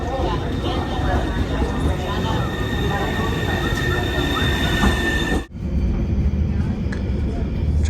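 Steady rumble and rattle of a passenger train riding toward Istria, a continuous rolling drone with faint high whine, briefly dropping out around a momentary gap before resuming, with some talk faintly mixed in.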